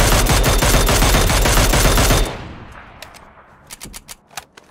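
Rapid automatic gunfire in the battle royale game PUBG rattles loud and dense for about two seconds, then cuts off, followed by a few scattered, quieter distant shots.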